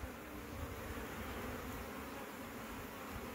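Bees buzz steadily around beehives in a continuous, dense drone heard close by, with no voices.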